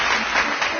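Crowd at a government beneficiary ceremony breaking into loud applause, a dense wash of clapping that fills the whole brief moment.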